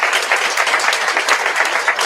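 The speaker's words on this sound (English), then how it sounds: "Get these public servants a round of applause." An audience at a 2026 Trenton mayoral candidate forum applauds the candidates with steady, dense clapping from many hands, loud and continuous throughout.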